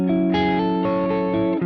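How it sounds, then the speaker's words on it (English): Electric guitar with the Archetype: Plini X chorus depth set at noon gives a moderately wobbling, thicker shimmer on a held, shifting chord, steady and alone before a quick stop. "Now let's put it at noon, and it'll become a bit more exaggerated."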